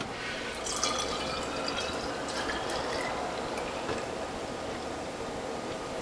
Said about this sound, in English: So I'm going to set my tray back again and fill more bottles.